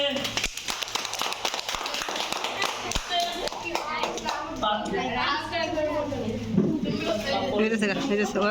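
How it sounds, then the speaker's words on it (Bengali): Applause of clapping hands at a school program after children's recitation, a dense patter of claps with children's voices and chatter mixed in, growing busier and more voice-filled toward the end. "হাততালি।"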